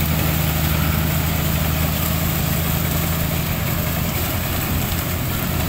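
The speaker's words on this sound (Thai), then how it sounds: "บรรทุก10ล้อ" A ten-wheel truck loaded at a sugarcane field sits with its diesel engine idling, a steady loud low rumble and vibration throughout with gusting wind noise, no talk.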